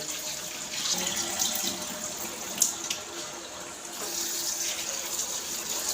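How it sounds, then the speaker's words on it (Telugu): Water runs steadily from a tap into a sink, with faint splashing and handling sounds as dried fish is rinsed under the flow, no talking. "నీళ్ళు పారబోసుకుంటూ నీట్గా కడగాలి"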